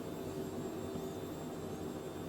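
A Phenom business jet engine in a flight simulator gives a steady, close, broadband roar with a faint high whine, continuous and alone with no talk.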